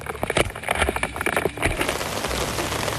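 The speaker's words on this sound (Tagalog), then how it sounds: "bumuhos ang malakas na ulan" Dense, hissing downpour builds over scattered splashes and knocks, settling into a steady heavy roar of rain by the end.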